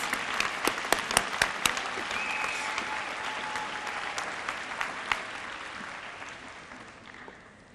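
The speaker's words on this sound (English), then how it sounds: "Let's give all of our 20-year honorees a round of applause." Audience applause for 20-year honorees at a service awards ceremony, a crowd clapping steadily with a few sharp individual claps standing out, gradually fading toward the end.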